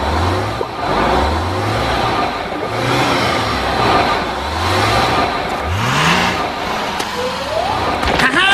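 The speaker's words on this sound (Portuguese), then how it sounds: "aparece outro ônibus e sai rapidamente" A cartoon bus in a SpongeBob episode pulls up and speeds off, with repeated rising engine revs cycling through gear-like swoops, loud and close, ending in a quick zip and a couple of sharp hits.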